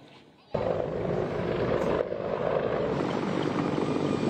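A CH-53 military helicopter lands at an airfield at San Vicente Airport in Palawan, its loud, steady rotor and engine roar starting abruptly and holding close and constant throughout.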